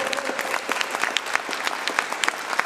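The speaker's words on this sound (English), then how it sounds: "give her a special round of applause" An audience claps steadily for Sister Nefertari at a gathering, a dense burst of many hands close by with no break, lasting only a few seconds.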